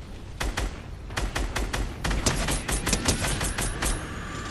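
Rapid bursts of video game gunfire from a shooter firing inside a store, loud sharp cracks coming in clusters and quick volleys across the whole stretch.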